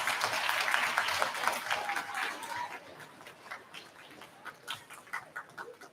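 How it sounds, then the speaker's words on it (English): A crowd at a middle school awards ceremony applauds warmly for award winners, dense clapping for the first few seconds that then thins out into scattered claps and soft voices. "I would like us to give one last big round of applause to all of our award winners"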